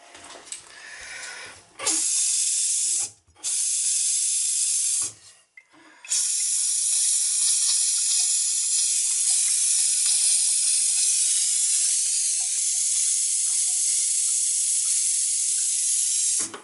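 Air and water spurting from faucets during winterizing of an ocean guest cottage's plumbing: a loud, steady hissing rush interrupted by two short gaps early on, then running continuously without voices.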